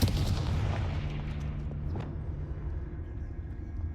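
A Confringo blasting spell explodes in Hogwarts Legacy, a loud booming burst that rolls into a rumbling tail and slowly fades over several seconds.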